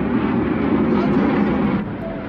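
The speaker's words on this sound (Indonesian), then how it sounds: "ratusan pesawat sekutu sudah mulai terlihat di atas langit Belanda" Hundreds of Allied World War II aircraft flying over the Netherlands during a huge airborne operation, heard as a continuous heavy engine drone, loud and steady with a slight drop near the end.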